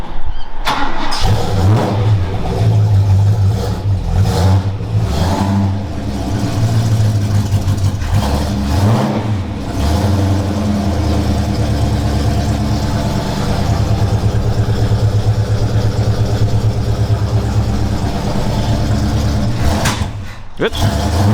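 A car that has sat for several days cranks and starts, then its engine revs and settles, loud and close, with a person talking over it.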